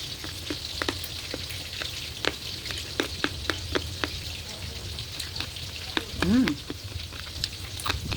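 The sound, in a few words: pork frying in a pan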